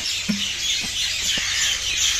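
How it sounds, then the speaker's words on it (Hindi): Birds call in a village at sunset: a few brief chirps and tweets, faint and scattered, over a steady hiss of evening ambience, with no talking. "सारी परिंदों की आवाज़ें यहाँ से अभी आ रही हैं।"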